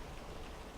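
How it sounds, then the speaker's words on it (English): Steady rain falling outside an open window on a March day, a continuous soft hiss of drops on outdoor surfaces, even and unbroken, with no voices. "it's really raining good out there"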